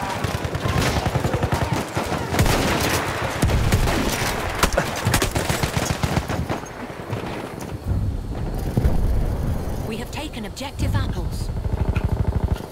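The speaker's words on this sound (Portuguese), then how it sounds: "você deu um tiro, cara" Rapid gunfire and bursts of automatic weapons in the World War I shooter game Battlefield 1, loud and dense throughout, with wind-like rumble and players talking over the shots.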